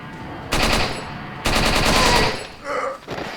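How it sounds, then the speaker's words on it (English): Loud bursts of rapid automatic gunfire from the video game Resident Evil 4, with two long sustained volleys and a shorter burst near the end, sounding close and dominant. "Oh, my shooting's a bit off"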